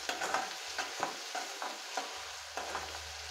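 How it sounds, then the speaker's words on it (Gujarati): Chopped onion sautés in oil in a pan for a Kathiyawadi-style okra curry: a soft sizzle broken by repeated scraping stirs of a spoon, about one every half second. "ડુંગળી થોડી ટ્રાન્સપરન્ટ થાય ત્યાં સુધી આપણે સાંતળી લેવાની છે"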